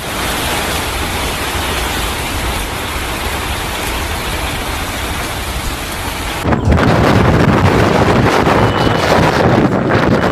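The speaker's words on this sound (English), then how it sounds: "powerful thunderstorms brought damaging winds, heavy rainfall, lightning, and hail to parts of Hebei and Shandong provinces" Heavy rain and wind from a powerful thunderstorm in Hebei and Shandong, northern China, a dense steady roar that swells sharply louder and rougher partway through, with no talk.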